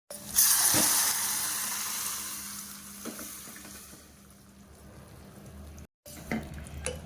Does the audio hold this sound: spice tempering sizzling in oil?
yes